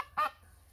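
A goose gives one short, nasal honk close by over a faint low background hum.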